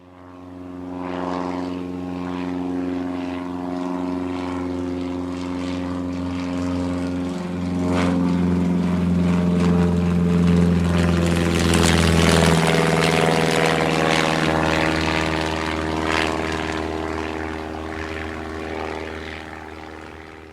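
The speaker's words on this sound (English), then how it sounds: "It's a long plane ride." Propeller airliner cruising on a long flight, a steady droning engine hum with layered tonal harmonics that swells slightly midway, heard continuously and close with no talk.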